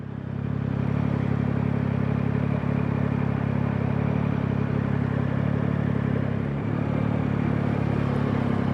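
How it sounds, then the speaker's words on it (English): A steady, throaty exhaust from a 2024 Yamaha MT-09 motorcycle drones continuously at close range, even and unbroken with only a small dip near the end. "The exhaust note is really good."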